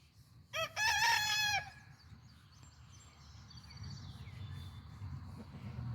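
A rooster gives one loud, close crow of about a second, then faint clucks and rustling follow over a steady hum of insects in the background.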